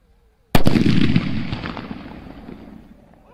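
A single loud, close blast from a large firecracker after a brief silence, followed by a long fading rumble and crackle.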